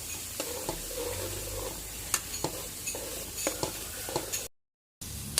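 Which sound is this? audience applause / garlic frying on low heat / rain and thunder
garlic frying on low heat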